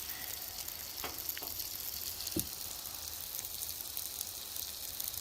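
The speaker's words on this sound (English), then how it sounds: "Some venison sausage cooking, hot sausage." Venison hot sausage sizzles over a campfire at a spring deer camp, a steady close crackle and hiss with a few sharp pops, and no talk.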